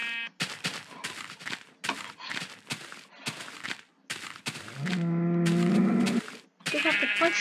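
Sheep bleating in the beta version of Minecraft, a long wavering baa partway through set among choppy game noises and a person talking.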